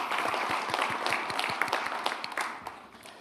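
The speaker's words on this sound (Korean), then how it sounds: "박수 감사합니다" An audience gives brisk, fairly loud applause with distinct individual claps, holding steady for about three seconds before starting to taper off.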